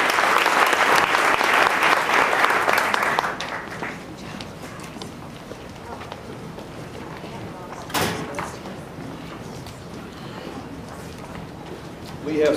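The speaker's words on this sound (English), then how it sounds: "Let's show a special applause for all these brilliant students." Loud, dense audience applause for students at a May 2012 OCBE meeting fills the first three seconds, then fades to a low murmur of room noise with a few faint knocks.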